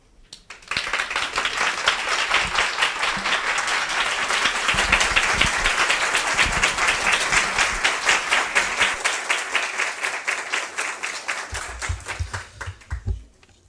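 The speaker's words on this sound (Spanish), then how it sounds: "Sirve estos aplausos para darte la bienvenida a la escuela" A congregation at a weekly meeting applauds to welcome a student to the school, steady rhythmic clapping that starts abruptly, holds for about ten seconds, then thins out and stops.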